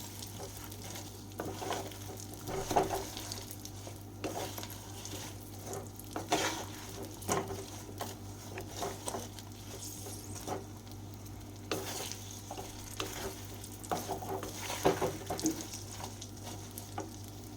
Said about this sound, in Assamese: এইখিনি এতিয়া ভালদৰে লৰাই ল'ম